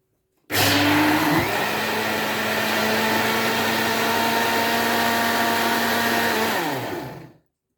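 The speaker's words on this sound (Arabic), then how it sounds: "خلاص كده نضربهم مع بعض في الخلاط." A loud blender whirs steadily for several seconds after a sharp start, its motor pitch dipping briefly early on, then winding down to silence.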